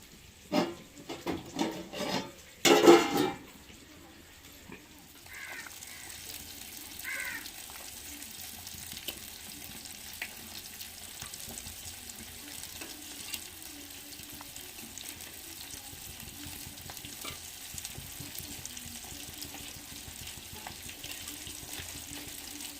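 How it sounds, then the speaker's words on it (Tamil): Fish pieces go into a pot of boiling lentil curry for a fish kuzhambu: a few close splashes and clatters in the first seconds, then a steady low simmer with faint bubbling, and no voices. "பருப்பு கொதிச்சு வந்துருச்சு மீனை போட்டுக்கிறோம்"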